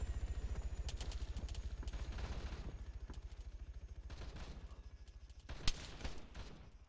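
Sustained automatic gunfire with tracers in ARMA 3, a fast even stream of shots that continues throughout at moderate distance, ending in a couple of louder, closer bangs near the end.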